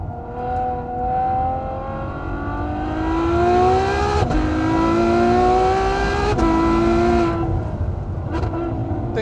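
A Ferrari F12 Berlinetta accelerates hard, its engine note climbing loudly in pitch, dropping sharply at two quick gear changes and climbing again, heard from close by with some talk underneath.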